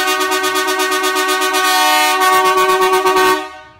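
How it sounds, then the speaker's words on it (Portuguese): A loud, sustained blast from a dual marine air horn installed on a Chevrolet Grand Siena car, two steady tones blaring together and then cutting off abruptly. "Vem na sua buzina por uma marítima dupla aqui, ó, que nem essa, vem!"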